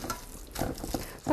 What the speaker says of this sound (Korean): 이렇게 섞어주세요